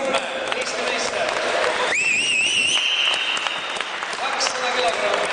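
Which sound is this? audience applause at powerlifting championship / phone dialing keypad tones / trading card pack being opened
audience applause at powerlifting championship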